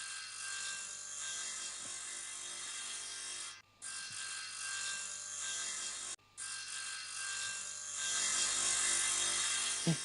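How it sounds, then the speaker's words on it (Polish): Mechanical chainsaws run in a cartoon rescue scene, a steady buzzing drone broken by two brief dropouts and swelling louder near the end, with no talk. "Te mechaniczne piły są bardzo niebezpieczne."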